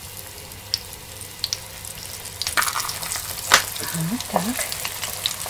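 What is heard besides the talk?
plăcintă pastries frying in hot oil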